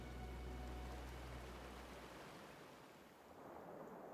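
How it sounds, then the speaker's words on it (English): Continuous broadband water rush from a restored river in the video game Disney Dreamlight Valley, with a low rumble at the start fading into a steady, fairly quiet flowing wash. "The water, it's flowing."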